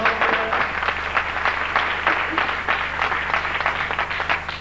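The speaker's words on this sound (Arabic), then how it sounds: "والحين تعالوا صفقوا لها" A live audience claps together for a girl named Layla chosen for a children's play, steady dense applause lasting several seconds, close and loud, with no voices over it.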